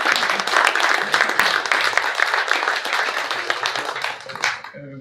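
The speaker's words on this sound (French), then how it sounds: "je vous demande de les applaudir" A room full of people at a French morning conference on digital tech and building sobriety applauds steadily for about four seconds, dense overlapping claps that thin out and stop near the end.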